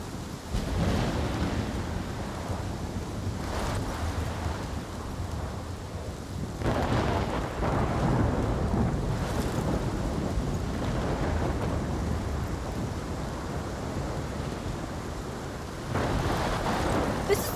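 A heavy thunderstorm in Life is Strange rumbles on without a break, with dense rain and deep rolling thunder swelling loud at intervals and no voices.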